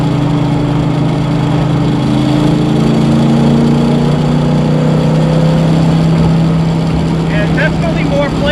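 A 1968 Shelby Mustang GT350 with its 302 V8 drives steadily, a loud, continuous engine drone holding a constant pitch throughout with no pauses.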